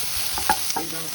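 Onions sizzling in a pan while a spoon stirs them for an egg gravy, a brief close burst of frying with a couple of soft scraping strokes.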